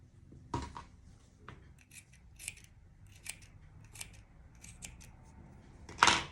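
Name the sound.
scissors cutting excess fabric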